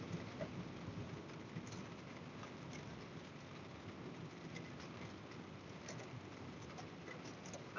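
Steady rain on a car in slow-moving traffic, a continuous dense patter with low road rumble beneath it, running evenly throughout with no talking.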